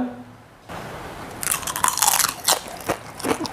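Close, loud crunching and chewing of spicy garlic glass chips (keripik kaca), with crisp irregular bites and crackles continuing for a few seconds after a brief quiet start.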